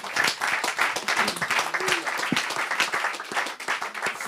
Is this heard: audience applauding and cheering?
yes